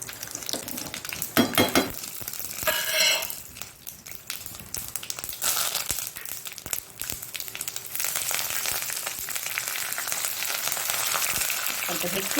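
Mustard seeds and curry leaves fry in hot oil with a steady, close sizzle and crackle, interrupted early by a few clinks and stirring sounds, then a dense continuous hiss.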